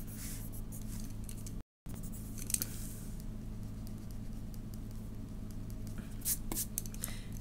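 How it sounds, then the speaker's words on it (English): A pen or marker drawing a straight line through two points on a graph, soft scratchy strokes close by with a few brief louder scrapes and light handling noise, no voices. "And then I can draw a line through the two points to get the graph of the"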